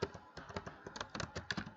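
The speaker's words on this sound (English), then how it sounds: "Please observe, I am typing like" Fingers type on a computer keyboard in quick, irregular bursts of soft clicks, faint and close, with no talking.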